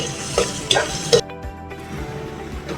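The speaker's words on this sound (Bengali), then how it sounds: "ততক্ষণ পর্যন্ত এটা আপনারা নেড়ে চেড়ে নেবেন, যাতে পেঁয়াজটা কোনো সাইডে পুড়ে না যায়" Onions being stirred and fried in a pan for an Indian-style chicken jhal fry curry, a steady close sizzle with three sharp scraping stirs early on, then continuous frying crackle.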